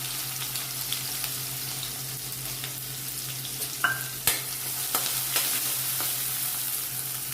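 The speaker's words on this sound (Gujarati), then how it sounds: "હવે એમાં આપણે એક મોટી ડુંગળી લીધી છે એને ઝીણી કટ કરી લીધી છે એ એડ કરી દઈશું" Finely chopped onion hits hot oil seasoned with cumin and asafoetida, a steady broadband sizzle with a few sharp clinks and scrapes of the spoon midway, close and alone with no talking.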